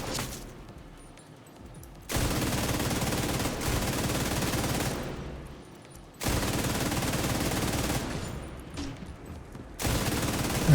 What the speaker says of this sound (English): I hear a grenade.